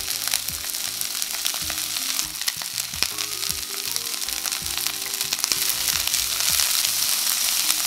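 Bean sprouts stir-frying in a hot pan with tofu and vegetables for a teriyaki dish, a steady loud sizzle with scattered clinks and scrapes of stirring throughout.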